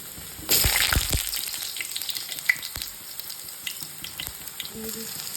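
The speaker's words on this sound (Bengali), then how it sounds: "এদিকে আমি আলুগুলো ভেজে নিচ্ছি এঁচোড়ের জন্য যে আলুটা দরকার" Potatoes frying in oil in a pan for a jackfruit curry, a continuous close sizzle with a louder burst near the start and scattered crackles throughout.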